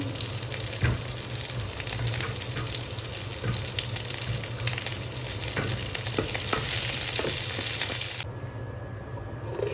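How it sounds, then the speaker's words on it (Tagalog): Onion sautéing in a hot pan with a little oil crackles in a steady close sizzle, punctuated by clicks and scrapes of stirring, dropping slightly quieter near the end, with no voices. "Gigisa natin sila. Ang ating onion."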